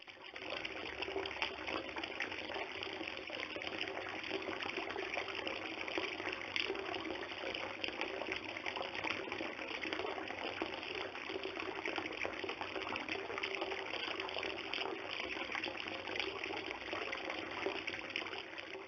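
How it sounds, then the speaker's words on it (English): Water from an outdoor fountain splashes and trickles steadily, a continuous bright wash of falling water heard close and alone, with no voices. "Here we are at the fountain, and I'll play."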